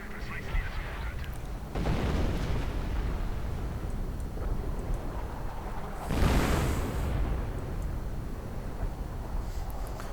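Artillery fire in a World War II real-time strategy game, with dull booming shots over a steady rumbling battlefield bed; a louder burst swells midway through.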